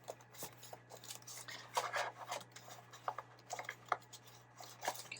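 An awl pushed through thick journal paper for a DIY glue book, giving repeated close, quiet rasping and scraping bursts in short irregular strokes.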